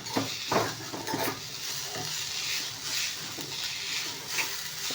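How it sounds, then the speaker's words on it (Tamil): Asafoetida and spice powder tempering in hot oil, with a steady close sizzle and frying crackle, occasional stirring clinks and pan scrapes running throughout. "எண்ணெய் சூடாக இருந்து நம்ம பெருங்காயம் போட்டு அந்த பொடி போட்டு நம்ம தாளிச்சுக்கணும்"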